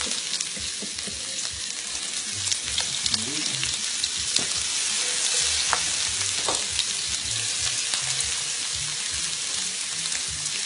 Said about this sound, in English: You hear that sizzle? That's what you're looking for.